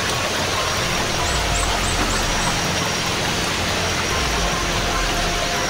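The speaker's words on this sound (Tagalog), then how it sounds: "Talagang naabutan tayo ng ulan dito." Rain falls steadily outdoors, a dense continuous hiss with no breaks, fairly loud and close, with no voices.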